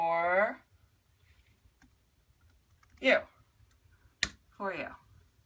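A computer keyboard gets a few isolated, faint clicks and taps between short bursts of someone speaking, in an otherwise quiet room.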